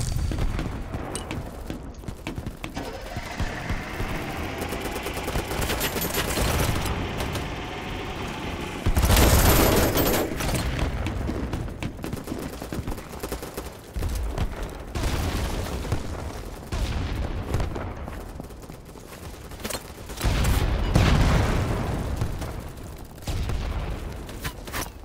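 Gunfire and booming blasts echo across a chaotic multiplayer battle in the video game BattleBit Remastered, with steady rattling volleys and a couple of louder heavy hits, no voices over it.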